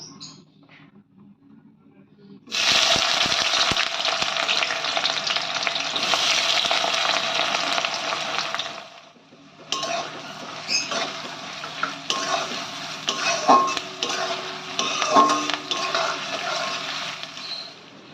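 Chopped onions hit hot oil with a loud, sudden sizzle that hisses on steadily, pauses briefly, then continues with scraping stirs and spatters for a chicken kosha.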